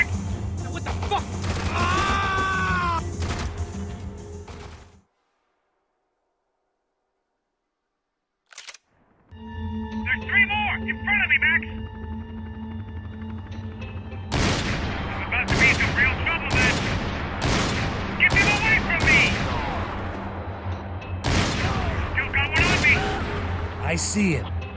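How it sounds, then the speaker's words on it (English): Gunfire in the video game Max Payne 3 crackles in loud bursts over a noisy action soundtrack. A silent gap follows, then a rapid run of sharp, repeated shots. A voice is heard near the start. "Shoot, for Christ's sake"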